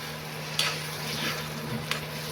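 Pasta and vegetables being stirred in a hot pan, with a soft, steady low sizzle and two brief scraping clinks of the spoon against the pan, close and quiet.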